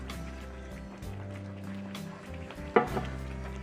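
A spoon stirs creamy country gravy made from chicken drippings and lard in a cast iron skillet, a soft steady scraping and bubbling under a low hum, with a sharper clank near the end.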